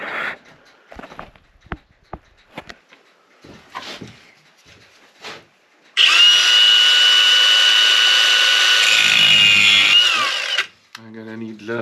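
A power tool cuts into a nut on a spindle with a loud, high, steady grinding whine for about five seconds, after quieter handling clatter and scattered knocks.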